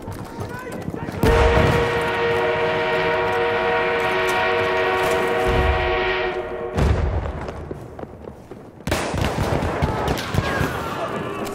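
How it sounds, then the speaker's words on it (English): In a Battlefield game battle, an armored train rumbles and a loud sustained horn-like tone drones for several seconds amid bursts of gunfire and explosions. "We have an armored train en route."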